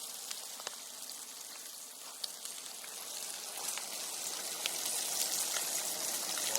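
Onion and garlic sizzling with steak in a pan over a campfire outdoors, a steady hissing crackle with occasional sharp pops, slowly growing louder.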